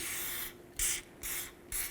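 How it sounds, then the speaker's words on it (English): Penetrant sprays from an aerosol can onto the front axle area of a 1992-2000 Chevy Tahoe, a close hissing in three short bursts with brief gaps between them. "Let's spray this area with some penetrant."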